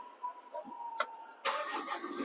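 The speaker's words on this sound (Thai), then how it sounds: "เราก็สตาร์ทเครื่องยนต์ก่อนนะคะ" The diesel engine of an Isuzu FRR210 dump truck cranks briefly after a few faint clicks, then catches and settles into a rough, steady idle nearby.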